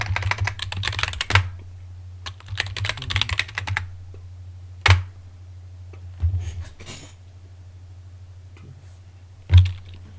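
A terminal command is typed on a computer keyboard in quick bursts of clicking keystrokes, followed by a few isolated, sharper key presses over a low steady hum.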